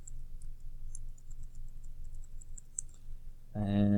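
Quiet, rapid key clicks as a password is typed on a computer keyboard, steady for a few seconds before a voice starts speaking.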